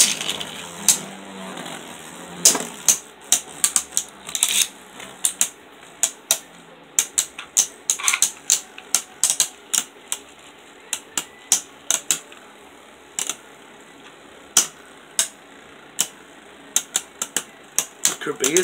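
Beyblade Burst spinning tops, Archer Hercules against Guardian Kerbeus, clashing in a stadium: rapid sharp plastic clicks and collisions over a thin high whir, close, with speech from people nearby.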